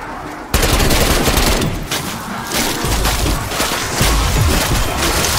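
Weapon fire in a Call of Duty zombies game, sustained loud automatic shooting with booming impacts that begins abruptly and continues as a dense wall of noise.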